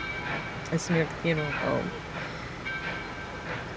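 A train rumbles on a nearby railroad line in Lafayette, Georgia, a continuous low rolling sound under a man's speech.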